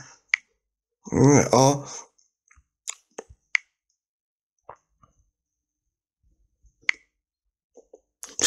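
Sparse, sharp tapping clicks from the Cheetah Keyboard app on Android, spaced irregularly across near silence, following a brief spoken word at the start.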